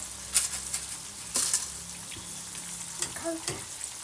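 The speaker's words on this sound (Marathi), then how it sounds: "आता याला मीडियम फ्लेमवरती आपल्याला फ्राय करायचं आहे छानपैकी" Raw banana slices for chips frying in oil on a medium flame, a soft, fairly quiet sizzle with a few brief bursts of bubbling and light clinks, no talking.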